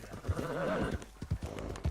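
A horse in Red Dead Redemption 2 gives a close whinny with a wavering pitch, and a few dull hoof clops sound around it.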